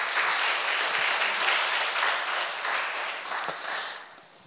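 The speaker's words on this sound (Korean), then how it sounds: "박수 부탁드립니다" Audience applause fills a memorial concert hall evening of poetry and music, a steady broad wash of clapping lasting several seconds before tapering off near the end, with no talk over it.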